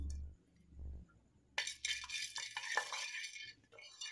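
Garam masala spices stirred and roasting in a kadai for pav bhaji masala powder: a quiet start with low hum, then scraping and rattling of the spices against the pan with a faint sizzle.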